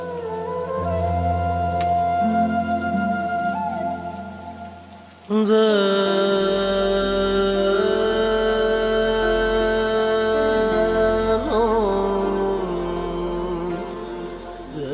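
Steady rain falls throughout, blended with a sustained tonal musical backdrop that swells fuller and louder about a third of the way in and then holds.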